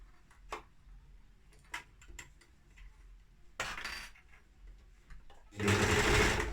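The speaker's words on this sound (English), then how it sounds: "I'm just going to sew over the top there." A sewing machine stitches over a jersey band on a fabric face mask, running in a short close burst and then a longer, louder run, with light clicks and handling taps in between.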